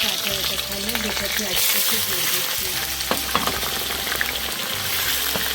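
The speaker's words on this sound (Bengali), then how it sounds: "তেলটা গরম হয়ে গেছে দুটো তেজপাতা দিয়ে দিয়েছি" Two bay leaves sizzle in hot oil in a pan, giving a steady, close frying crackle with scattered pops and occasional stirring clinks throughout.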